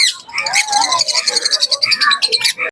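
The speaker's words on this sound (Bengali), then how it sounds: "এখানে বেশ কিছু ফিঞ্চ আছে" Finches chirp at a pet bird market: rapid, close, bright tweets and twittering calls in dense overlapping bursts.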